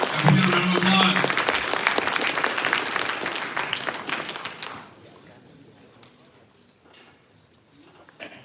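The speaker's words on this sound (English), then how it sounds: "Can we get a round of applause?" An audience at a hackathon opening ceremony gives a round of applause, dense and loud for about five seconds before dying away to scattered claps and quiet room noise, with a voice briefly heard at the start.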